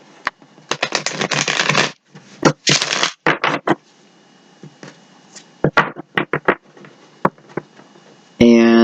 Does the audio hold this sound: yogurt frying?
no